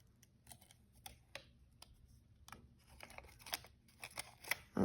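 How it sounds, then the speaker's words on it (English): Scissors snipping a paper embroidery stencil near the daisy-stitch lines, short sparse clicks and crisp cuts at close range, growing a little busier toward the end. "So I'm going to cut up around the daisy stitches."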